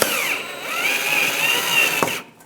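A power drill or driver runs steadily, driving screws while a 2005-2010 Chrysler 300 5.7L V8 alternator is installed, with a whirring whine that holds for about two seconds, then stops.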